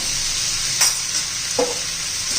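Raw banana pieces sautéing in a pan with salt, turmeric and red chili powder, a steady soft sizzle with a couple of brief stirring scrapes, close and alone.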